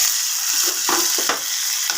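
Ingredients with turmeric frying in a pan as they are stirred, a dense, bright sizzle running throughout with a few soft scraping and clinking stirs, close and alone without speech.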